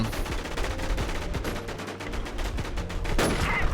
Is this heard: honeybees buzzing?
no